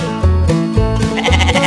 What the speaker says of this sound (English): those are sheep